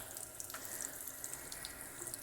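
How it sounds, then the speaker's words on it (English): Hot water runs steadily from a tap into a sink, a continuous close splashing hiss with no speech over it. "we're gonna put on the hot water"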